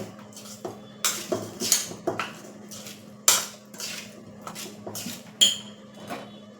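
Spicy potato bhaji being mixed with oil in a pan, a spoon clinking and scraping against the metal in irregular bursts over a low background hum, no talking.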